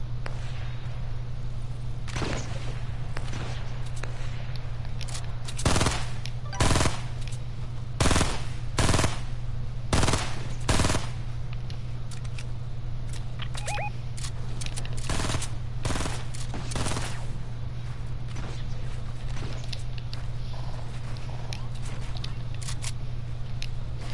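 Repeated bursts of gunfire in a PS4 shooter game, sharp cracks and short volleys scattered over a steady low hum, loud and close, with no talking.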